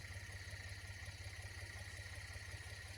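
A tractor engine runs steadily in a field during wheat sowing, giving a continuous low, throbbing drone at an even level throughout, with no talking.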